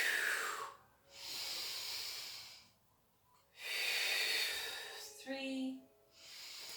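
Slow, deliberate yoga breathing during a prenatal and postnatal flow: two long airy inhale-exhale cycles with brief quiet gaps between, then a shorter breath ending in a low nasal snort, close and fairly soft.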